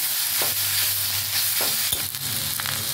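Radish greens frying in a pan with a little melting sugar, a continuous loud sizzle with occasional scraping stirs and soft knocks of a spatula, no one speaking.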